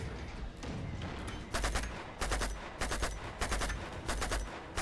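Enemy shotgun blasts in the video game Uncharted 2: Among Thieves, a series of loud booming shots at irregular intervals with some quicker bursts over a steady background din, no talking.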